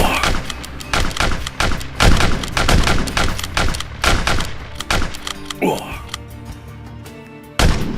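Muskets fire in a dense, irregular fusillade during an ambush reenactment, with many loud close shots and booming thuds, and shouting voices mixed in.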